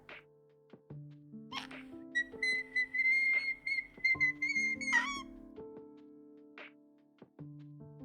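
A voice imitating a dying chicken with a string of thin, high whistling squeals and sustained wavering tones, interspersed with short knocks, fairly quiet and isolated against silence.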